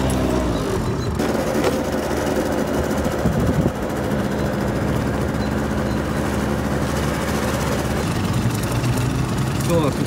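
A scooter engine idles with a steady, rumbling chug close by, a brief rev or shift partway through, running continuously.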